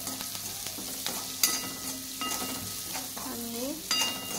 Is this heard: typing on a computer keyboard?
no